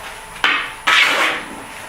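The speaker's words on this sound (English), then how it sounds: "I'm going to turn this on, use my parting tool to clear a little bit of this out." A parting tool bites into a pen blank spinning on a wood lathe, giving two sharp onsets of bright, hissing cutting noise, each sustained about half a second or longer, close up with no talk.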